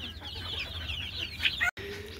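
A Golden Misri hen clucks close by, a string of short, rising clucks and squawks over low background noise, ending with a brief cut.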